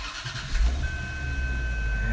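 Bentley Arnage engine starting up, a brief crank followed by a steady low idle that holds close and moderately loud, with a thin whine running over it.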